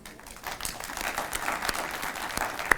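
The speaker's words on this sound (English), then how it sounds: "Can we all start with a round of applause?" Applause from an audience at an awards ceremony, steady clapping that fills the room for a few seconds at moderate loudness, with no talk over it.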